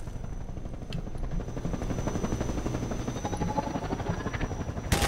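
Helicopter in the video game Half-Life 2, a steady rotor drone with low chopping pulses that holds throughout at moderate loudness, with a few brief clanks and a sharp hit at the end.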